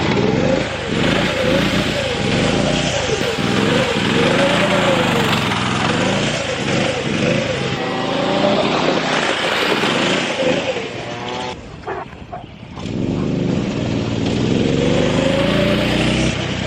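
A homemade go-kart, the first one its builder made, runs its small engine nearby, the loud buzzing note rising and falling as it revs and drifts, with a brief dip in the noise partway through.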